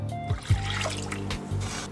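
Water poured into a pan while making a sauce, a short close trickle and splash with a couple of soft knocks, lasting about two seconds.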